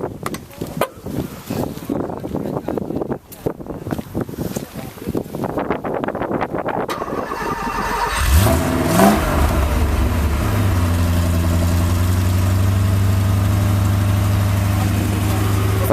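A Porsche 928 in a garage, with people talking and mic rumble before the engine cranks over and catches, then settles into a loud, steady idle.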